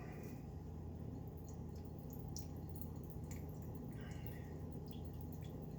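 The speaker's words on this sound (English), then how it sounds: "I usually just let that drain out" Coconut water trickling and dripping from a cracked coconut into a bowl, a steady, fairly quiet stream of drips over a low continuous background.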